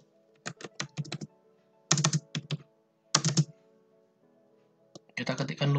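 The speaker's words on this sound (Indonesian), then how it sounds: "di sini kita ketikkan dulu loading" Bursts of quick clicking keystrokes on a computer keyboard, several short runs of typing separated by pauses, close and crisp in a quiet room.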